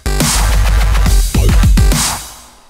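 Dubstep wobble synth from a free track, a loud, heavy bass line that pulses and bends in rhythmic wobbles. It plays alone and without pause over most of the clip, then fades out at the end.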